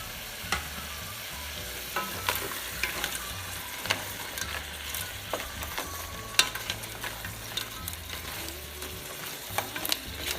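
Crab curry frying and bubbling in a pot as tamarind juice goes in, a steady sizzle with repeated clicks and scrapes of stirring over a low rhythmic hum.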